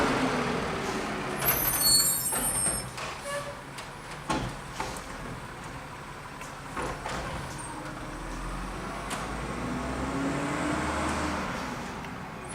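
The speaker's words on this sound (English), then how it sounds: "I'm gonna wait till the garbage truck is gone because it's making a lot of noise." A garbage truck rumbles past on a street, its engine noise swelling and fading over several seconds with hissing air-brake bursts and clanks near the start, loud and close with no talk over it.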